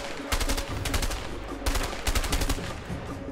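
Rapid bursts of gunfire from the video game A Way Out, two clusters of repeated loud shots in quick succession, close and dominant with no talking.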